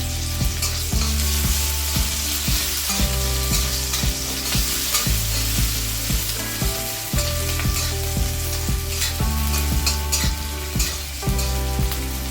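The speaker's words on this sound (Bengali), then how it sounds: "কাঁচা লঙ্কা আর পেঁয়াজ দিয়ে দিচ্ছি। এবার ভালোভাবে ভেজে নেব।" Green chillies and onion sizzle steadily in oil in a pan, a loud continuous frying hiss with stirring scrapes and rhythmic low clatter throughout, no voices.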